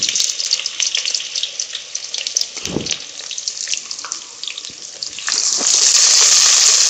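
Onions hiss and sizzle in hot oil, a dense crackling that swells louder near the end, with a brief thud partway through and no voices.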